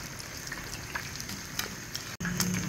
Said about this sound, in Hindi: इसी तरीका से ये हम ये सारी कलेजी और पोटा फ्राई कर लेंगे।